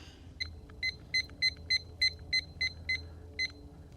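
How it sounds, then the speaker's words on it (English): A kitchen timer is being set for 15 minutes, giving about ten short, evenly spaced button beeps, close and fairly quiet over a low background hum. "We want to set a timer now for 15 minutes."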